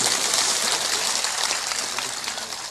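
Crowd applause for two brothers at an outdoor spiritual gathering in Bihar, India: a dense, loud wash of many hands clapping that tapers slightly toward the end, with no voices over it.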